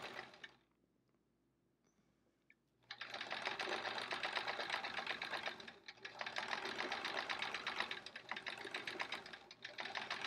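A sewing machine doing free motion quilting on a chevron quilt starts after a brief quiet moment, then runs in fast, loud stitching bursts with short pauses between runs.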